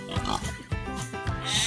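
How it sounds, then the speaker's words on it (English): A pig oinks and snorts in three short grunts spaced evenly apart, close and fairly soft, with no talk over them. "Pig."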